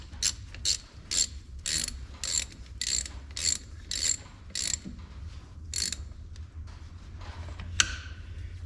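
A ratchet tightens a drain plug on a Kubota SVL final drive in roughly a dozen short bursts of close, sharp clicking, each stroke separated by brief pauses, with a lone louder click near the end.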